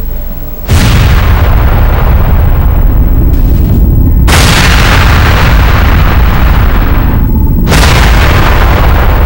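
A massive nuclear detonation with a rising mushroom cloud roars out as a series of enormous, overwhelming booms, each followed by a long sustained rumble, extremely loud and unbroken across the whole stretch.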